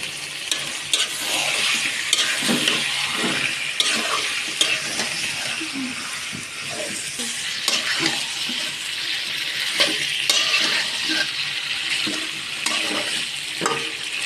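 Broiler chicken pieces fry in hot oil with potatoes for a curry, giving a steady sizzle broken by repeated scraping stirs of a utensil in the pan, close and continuous with no speech.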